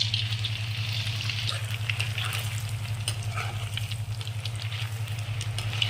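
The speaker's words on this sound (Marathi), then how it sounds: "मस्त असं मोठ्या गॅसवर तळून घ्यायचं" Cut baati deep-fry in hot oil over a high flame, a continuous close sizzle with fine bubbling crackle and a low steady hum beneath, no talking.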